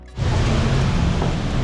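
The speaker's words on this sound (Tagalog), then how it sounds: "Jay, lakas ng ulan" Heavy rain starts abruptly and settles into a loud, dense, unbroken hiss that pours down steadily close by.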